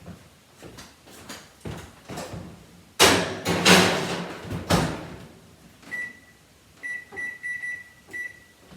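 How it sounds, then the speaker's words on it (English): Kitchen oven door clunks and rattles as a tray of beets for roasting slides in, with several thuds and a loud bang of the door shutting, followed by a few short beeps from the oven controls. "And let me put these in the oven."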